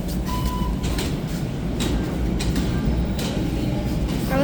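A Toronto TTC subway train rumbles steadily at Kipling-bound platform, a dense low roar with faint rattles and brief higher clicks, continuous and fairly close.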